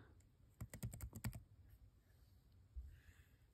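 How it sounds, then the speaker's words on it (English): Someone taps out a quick burst of about eight clicky keystrokes on a computer keyboard, close and distinct, then it goes quiet except for a couple of faint later taps. "Just type in 8 something"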